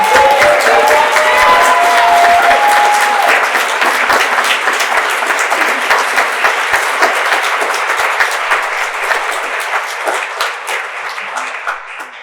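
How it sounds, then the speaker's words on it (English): A large audience at an arts event claps and cheers, a loud dense ovation that opens with a few whoops and then slowly tapers as the clapping thins toward the end. "Let's give a huge round of applause for their talent, dedication, and quality"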